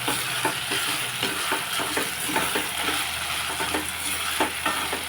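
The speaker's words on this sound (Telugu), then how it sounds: "ఉల్లిపాయ అంతా మగ్గిపోయింది ఇదంతా కలిసేసి" Onions fry in a pan for a potato and mango curry, giving a steady, close sizzle with repeated scraping strokes of a spoon stirring them throughout.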